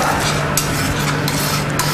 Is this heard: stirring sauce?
yes